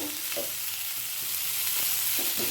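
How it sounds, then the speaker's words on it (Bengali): Drumstick pieces, potato and poppy seed fry together over a low flame, giving a continuous close sizzling hiss with a few soft scraping touches. "পাঁচ থেকে সাত মিনিট একটু ভাজতে ভাজতে সেদ্ধ করে নেব"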